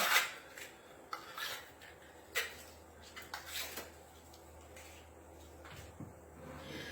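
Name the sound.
butter knife scraping and notching food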